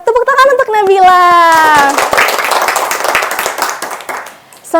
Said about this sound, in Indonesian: Oke, tepuk tangan untuk Nabila.